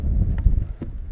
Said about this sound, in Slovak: Trošku fúka.